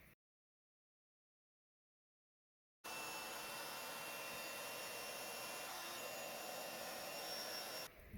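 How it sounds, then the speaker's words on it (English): A heat embossing tool blows hot air over clear embossing powder on cardstock, a steady close whooshing hum starting after a few seconds of silence and running unbroken to the end. "Then I'm going to heat emboss that in clear embossing powder."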